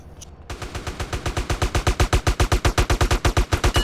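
A fast, regular string of close gunshots rings out in a video game police raid training, about six to seven shots per second, loud and evenly spaced after a brief quiet start.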